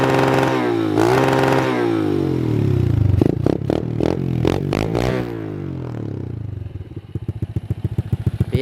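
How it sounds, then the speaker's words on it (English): A quad fitted with a snow conversion kit revs hard, its engine roaring up and bouncing off the limiter in rapid stuttering bursts, then dropping to a low, lumpy idle with fast regular pulses. "Give her a rev for you."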